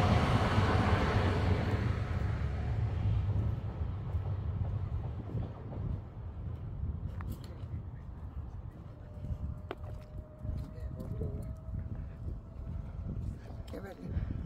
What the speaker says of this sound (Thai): รถไฟประเทศเดนมาร์ก